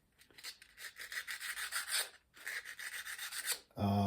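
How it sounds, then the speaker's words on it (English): Rusty screw heads being hand sanded with 320-grit wet-or-dry 3M sandpaper, heard as two long runs of quick, close rasping strokes with a brief pause between them and a louder different sound at the end. "I'm just going to take some 320 grit, wet or dry, sandpaper from 3M"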